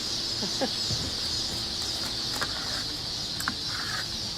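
Chicks and chickens at a hatchery on hatch day, a steady bed of high peeping with occasional clucks and brief bird calls, fairly near and continuous throughout.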